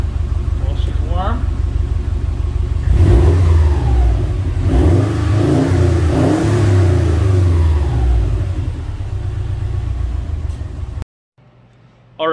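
A warmed-up 2008–2014 Subaru WRX STI hatchback with an aftermarket OBX catback exhaust runs close by, idling with a deep rumble and revving several times, with a voice talking over it before it cuts off near the end.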